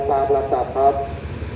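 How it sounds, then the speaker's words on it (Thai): A Thai railway diesel locomotive horn sounds in three short blasts at a station, each a chord of steady tones, over a low engine rumble with outdoor background noise. "ฟังเสียงวีดนะ"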